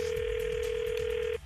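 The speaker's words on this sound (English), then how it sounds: "Let's listen in as Naomi phone taps her mom and dad with Michael Oppenheimer" A telephone tone sounds for a prank call: one steady, clear electronic tone held for over a second, then cut off abruptly, with no talk over it.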